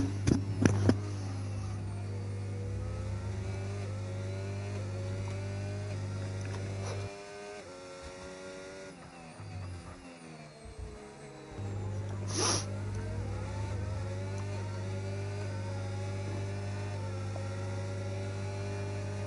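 Racing cars lapping Imola circuit in a video game race give a steady, loud engine drone with rising and falling revving tones; the engine note drops out briefly midway, then returns with a short sharp burst, no voices.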